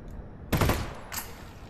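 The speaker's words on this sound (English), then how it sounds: "Burst fire." Burst-fire gunshots from the video game Half-Life: Alyx: a sharp rapid volley of shots, then a second shorter burst a moment later, close and loud against a quiet background.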